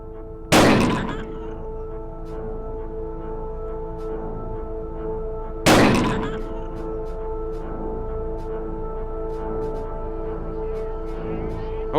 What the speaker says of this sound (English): Let's do some target shooting,